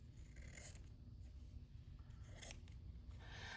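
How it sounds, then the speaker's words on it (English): Sharp scissors snipping through sheer, fine fabric or ribbon, close and quiet, with a few crisp cutting strokes spaced out over a low background hum. "it does make a difference having a nice pair of sharp scissors"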